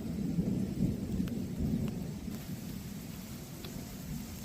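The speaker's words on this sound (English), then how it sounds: "So this storm is coming right at us." Low rolling thunder from an approaching thunderstorm over Cincinnati, a steady distant rumble under rain with a few faint crackles, no voices.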